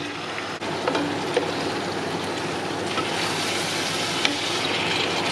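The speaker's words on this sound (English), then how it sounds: "Mix it all up. Make sure you keep stirring around the bottom so you don't get any burnt bits." Tomatoes for a Ghanaian spinach, egg and fish stew are stirred in a frying pan, giving a steady close hiss and scraping sizzle with a few small knocks and no talking.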